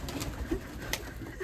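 Pigeons coo softly at a horse yard, a few low short coos scattered over a steady outdoor hiss with faint high chirps, brief and fairly quiet.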